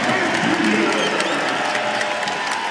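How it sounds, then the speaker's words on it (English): Crowd applause at a college men's basketball game between Fresno State and Nevada, a steady wash of clapping with some cheering, heard continuously with an announcer talking over it. "Trying to get a couple people on their feet clapping"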